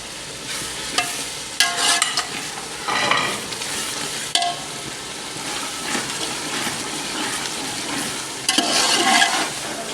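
Spiced masala with tomatoes frying and being stirred in a pan for a bhindi curry, a continuous sizzle with scraping spoon strokes and louder bursts, close and steady throughout.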